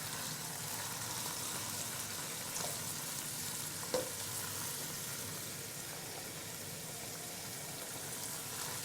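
Boneless chicken strips, cut lengthwise, frying in a pan give off a soft, even sizzle with faint stirring clinks, quiet and continuous throughout.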